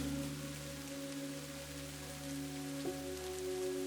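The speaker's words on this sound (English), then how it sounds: "rain drummed onto the castle roof" Rain drums steadily on a castle roof, a faint continuous patter under a low humming tone with a brief knock-like bump near the end.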